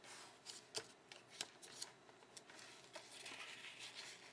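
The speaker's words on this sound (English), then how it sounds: "And then fold it again." Sheets of paper being creased and folded for an origami flower: soft, crisp crackles and a few sharp rustling snaps, close and fairly quiet, with no talk.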